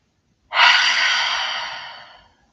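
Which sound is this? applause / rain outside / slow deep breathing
slow deep breathing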